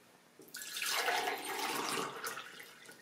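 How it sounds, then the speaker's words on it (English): Water poured into a glass for a laser refraction demonstration, a steady close splashing pour starting after a brief quiet moment and running without talk. "I'll pour some water in the glass."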